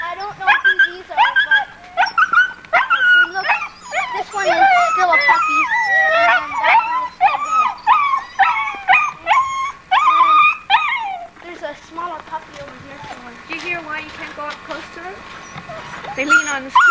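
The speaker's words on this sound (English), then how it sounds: "Okay, here are the puppies of Rhea and Toby, I think" Sled dog puppies in a kennel yip, whimper and howl in rapid overlapping bursts, close and loud, with a brief quieter stretch near the end before the high cries pick up again.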